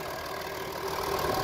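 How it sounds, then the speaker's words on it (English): A 2018 Ford F-150 with the 3.0L Power Stroke turbodiesel V6 idles steadily up close, a continuous, even, loud rumble with a faint diesel clatter and no voices. "you'll be able to hear the diesel engine putting away"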